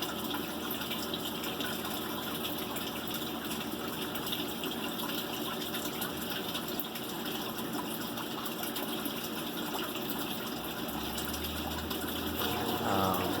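A small water pump runs in a homemade fish tank setup, giving a steady gushing, trickling flow of water with a constant hum that continues evenly throughout.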